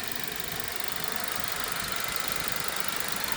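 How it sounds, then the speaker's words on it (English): Engine of a 2010 Ford Focus running with the hood open, a steady even hum with a fine rapid ticking texture, close up and unbroken, no voices over it. "All right, so here's your motor."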